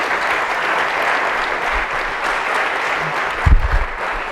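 Audience applause at a lecture, a dense, steady wash of many hands clapping that holds at an even level throughout, with a few low thumps near the end.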